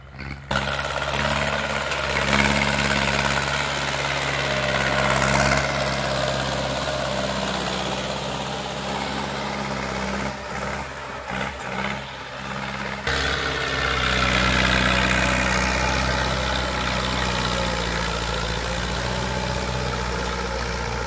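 A vehicle engine runs steadily in first gear on sandy ground by a riverside, a loud continuous low drone with a steady hum and a brief rough patch partway through before the constant rumble resumes.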